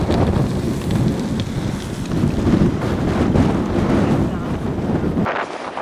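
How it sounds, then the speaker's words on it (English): Strong wind on Mauna Kea, Hawaii, buffets the microphone in loud, rough gusts, roaring continuously for several seconds before cutting off abruptly at the end. "It's been so windy for so long. Just non-stop wind, dude."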